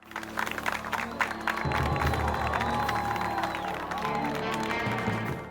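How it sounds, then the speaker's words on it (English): Police officers burst into applause and cheers for Batman in an animated series scene, a dense crowd of clapping that swells and holds steady over a background score, with no spoken words. "every officer ignores the guy and starts applauding for Batman instead"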